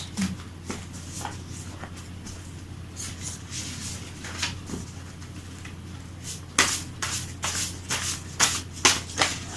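Oracle cards, handwritten, are shuffled by hand in quick bursts: soft riffling flicks throughout, with louder, denser card snaps bunching together toward the end, close to the mic and with no talking.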